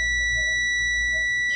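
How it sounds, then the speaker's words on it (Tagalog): Continuous high-pitched electronic beep from a continuity tester probing a short on a Kolin air conditioner mainboard, a steady tone held throughout with faint low background rumble. "Pag hindi nag-buzzer yan dito"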